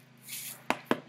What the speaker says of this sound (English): you're going to like shake it, and then we're going to like sprinkle it in.